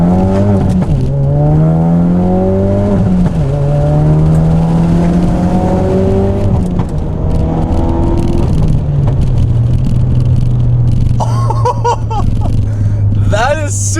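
A tuned 450bhp Ford Focus RS with a burble exhaust pulls away from a first-gear roll-on. It climbs through rising, loud engine revs close by, eases off, then settles to a steady drone, with crackling pops near the end.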